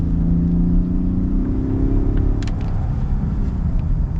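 A 2022 Ford F-150 King Ranch hybrid pickup accelerates hard with a steady, loud engine drone that rises in pitch and then drops as it shifts, heard from inside the cab with no talking.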